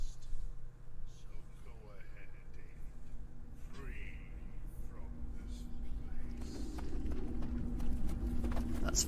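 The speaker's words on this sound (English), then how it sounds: "That's footsteps." Footsteps in the video game Lorekeeper tread in a steady, hollow clopping rhythm beneath sustained droning tones and muffled voice-like murmurs, growing a little busier toward the end.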